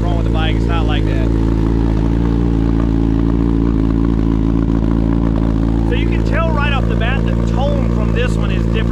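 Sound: motorcycle aftermarket exhaust cold start idling

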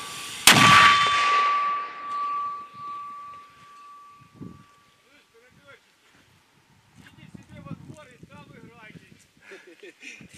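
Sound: mortar shot in combat

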